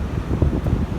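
Wind gusts across a rocky coastal bay and buffets the microphone, producing a loud low rumbling roar that holds steady through the brief moment.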